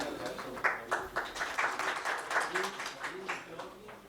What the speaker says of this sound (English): So one big round of applause for Shri Ramesh ji.